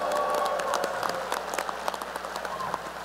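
A graduation ceremony audience at a December commencement claps steadily, a dense patter of many hands with scattered sharper individual claps, moderately distant in a large hall.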